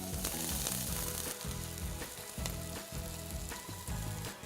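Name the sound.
red onion sizzling in a Dutch oven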